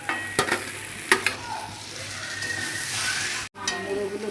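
Roasted Gobindobhog rice stirred with cumin-coriander powder in a hot pan, a close steady sizzle broken by sharp spoon scrapes and clinks against the metal.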